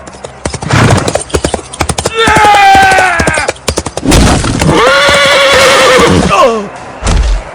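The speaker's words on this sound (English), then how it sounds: "Macaulay Culkin and Appleseed face each other on their horses, poised to charge." Horses neigh and whinny loudly at a jousting tournament, two long rising-and-falling whinnies standing out over steady clip-clop hoofbeats and crowd noise, with a heavy thud near the end.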